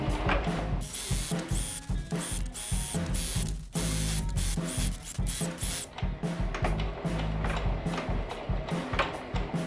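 Sewing machine stitching the long edge of a DIY sled cover for hauling camping gear, a loud rapid mechanical chatter of needle strokes in continuous bursts with brief pauses, close up.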